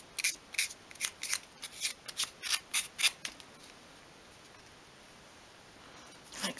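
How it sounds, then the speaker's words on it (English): Sandpaper rubbed along the edge of a small 1/12 scale wooden cabinet piece in quick, rhythmic scratchy strokes, close up, pausing briefly before a few more strokes. "take your sandpaper and just hold that again at a 45 degree angle"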